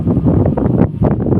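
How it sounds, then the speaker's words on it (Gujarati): Strong wind buffets the microphone outdoors during a Janmashtami celebration, a steady loud rumbling roar with gusts that swell and dip for the whole moment, no voices heard. "કેટલો પવન હાલે."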